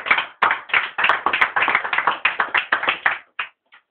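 A church congregation applauding, a dense run of clapping in quick bursts that thins and stops near the end, close and fairly loud.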